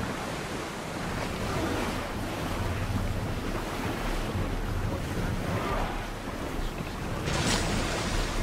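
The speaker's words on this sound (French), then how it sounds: "La mer est calme et le vent est chaud." Calm sea waves wash steadily under a warm wind, a continuous broad rush of surf and gusty wind noise on the microphone, with no voices.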